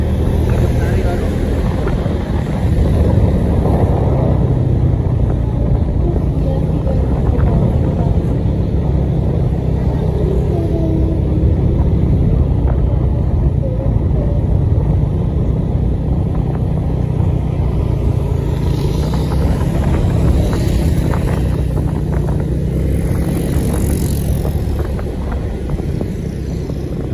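Riding a motorbike through traffic in Sawangan, with a steady, close wash of engine and road noise that runs unbroken throughout and voices now and then beneath it.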